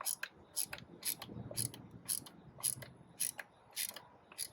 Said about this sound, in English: now I'm just putting the mass airflow sensor onto the new tube, the K&N tube